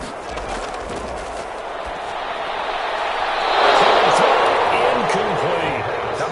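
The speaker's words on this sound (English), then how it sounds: "Some applause for the defense there." A crowd in a video game football match swells into applause for the defense midway through, over a steady stadium murmur, with commentary voices heard throughout.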